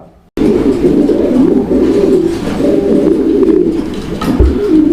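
Steady cooing from a fancy pigeon fills the clip, a low, throaty, continuous murmur from a close bird, with a faint bump of handling noise near the end.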